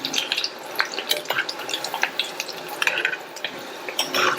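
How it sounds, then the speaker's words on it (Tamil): Cauliflower pieces frying in oil over a moderate flame give a steady, close crackle with scattered sharp pops and occasional clinks of a utensil against the pan, and no voices. "நிதானமான தீயில வச்சு இந்த மாதிரி ஃப்ரை பண்ணி எடுத்துருங்க."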